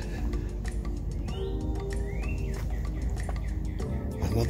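Songbird calls ring out on a forest hiking trail at Campgaw Mountain: a couple of clear upward-sweeping whistles with scattered ticks over a constant outdoor hiss, no voices.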